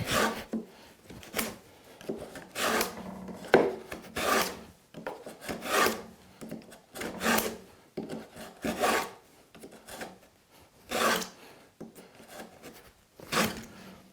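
A saw cuts through wood while building a display shelf, giving steady, rhythmic rasping strokes about every second or so, close and fairly loud with no voices.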